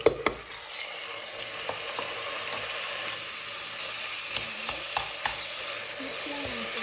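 Pork meat is added to onion and garlic frying in a pan and stirred, producing a continuous dense sizzle with occasional spoon knocks and scrapes.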